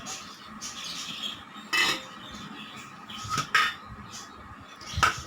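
Soaked chana dal going into a pressure cooker in a home kitchen, heard as a few sharp metallic clinks and scrapes of utensils against the cooker over a faint background hiss.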